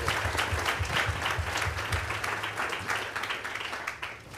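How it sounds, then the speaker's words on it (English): Audience applause at a nuclear energy panel discussion during a summit, a steady, dense wash of many hands clapping that holds strong for several seconds before easing slightly, with no speech over it. "Applause."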